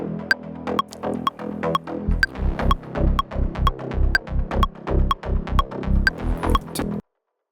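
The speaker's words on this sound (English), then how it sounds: "the thing that makes all of the difference is this synth chop sound" A Diva synth chop sound from the Bass Neutron preset plays rhythmic, punchy plucked stabs with a throbbing low end, a steady repeating pattern of short bright hits that is loud and alone before stopping abruptly.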